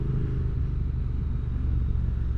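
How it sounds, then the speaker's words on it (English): Triumph motorcycle with a tuned exhaust idling close by, a steady low rumbling burble with an even pulsing beat and no voices. "It's really good exhaust setup and tune"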